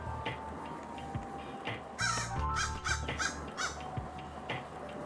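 Crows caw in SkateBIRD, a skateboarding bird video game, in a rapid series of harsh, loud calls bunched together midway through, over steady game music.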